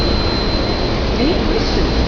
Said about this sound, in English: We're always blowing air throughout the biosphere